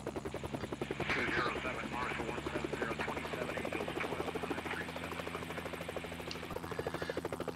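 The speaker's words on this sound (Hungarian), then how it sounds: "hogy ennyire komplikált egy helikoptert vezetni" Helicopter in a search and rescue video game, with a steady, rapid rotor chop and engine whine that continue throughout at moderate volume.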